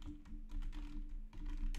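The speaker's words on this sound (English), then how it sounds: "then you can start typing again" Quick, uneven keystrokes on a computer keyboard, close and fairly quiet, clicking alone in a short burst with no talking.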